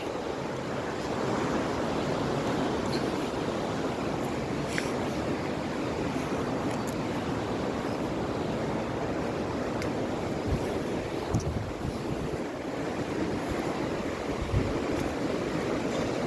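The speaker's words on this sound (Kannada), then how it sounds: "ನದಿಯ ಭೋರ್ಗರತ ಕೇಳಿಸ್ತಾ ಇದೆ ನೋಡಿ." The Dudh Koshi river roars along a rough, stony trail on the way to Everest Base Camp, a dense, continuous rushing roar close by and steady throughout, with no talk.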